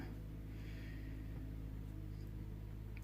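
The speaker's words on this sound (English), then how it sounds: "you might hear some motor in the background" A steady, muffled snow blower motor drones continuously in the distance, a low engine rumble with faint hiss and no other sounds over it.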